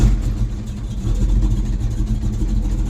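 A carbureted car engine with a sticking choke and unset fast idle cam idles roughly and steadily up close, a low uneven rumble that is close to stalling.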